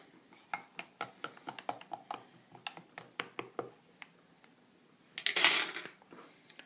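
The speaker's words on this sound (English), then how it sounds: "I forgot to give it a little stir" A spoon stirs bulletproof coffee in a mug, giving a quick series of light, rhythmic clinks against the cup, followed by a short rush of pouring or rustling.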